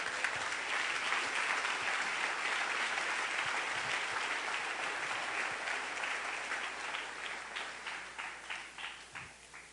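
A church congregation applauds during a Spanish-language Sunday worship service, a dense steady wash of clapping that thins toward the end into separate louder claps, with no talk over it.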